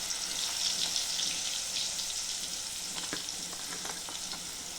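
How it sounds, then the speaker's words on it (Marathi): Green chilli sizzling in hot oil in a home kitchen pan, cooked for a Maharashtrian dangar bhaji: a steady, close frying hiss with a few faint clicks and scrapes, and no voices. "ती तेलामध्ये चांगली फ्राय होऊ देते."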